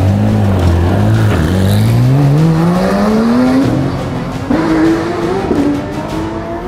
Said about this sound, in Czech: Tak odjíždíme, odjíždíme, Peťo.